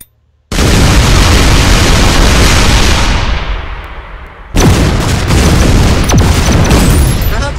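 Video game artillery shells explode in ShellShock Live with a sudden loud boom, a long rumbling decay, then a second heavy blast crackling with debris-like pops.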